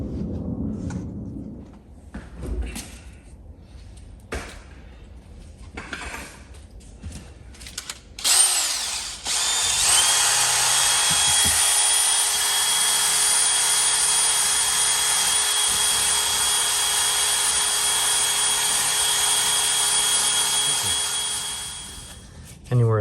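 A power drill fitted with a wire brush scours loose paint off the housing of a Black and Decker Model 6126 Type 3 polisher in a workshop, a loud steady whir with grinding texture running about twelve seconds after some handling noise, then winding down.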